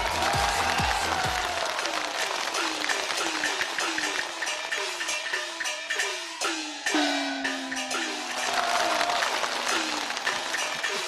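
A studio audience at a televised stage talent show applauds loudly and steadily, a dense wash of clapping that fills the whole stretch, with faint music tones running underneath.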